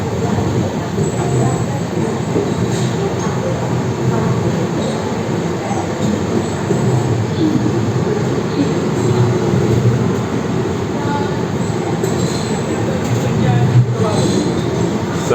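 A Rajdhani Special train rolls out of Itarsi station at sunrise, heard from inside an AC 2-tier coach as a loud, continuous rumble of wheels and carriage noise with occasional clicks and faint squeals.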